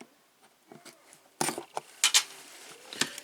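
Packaging tape on a G.I. Joe Classified toy box being cut and pulled open, heard as a few sharp scraping, crackling bursts after a quiet start, fairly close and with no talking.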